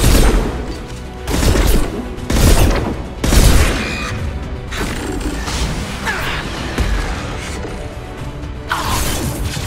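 Mass Effect 2 combat in a video game: loud, heavy bursts of gunfire and booming impacts in irregular clusters, then a denser clatter of weapon noise and mechanical clanks continuing under the action.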